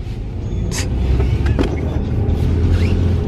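A car drives along with a steady, close rumble of engine and road noise, and a few faint brief sounds rise above it now and then.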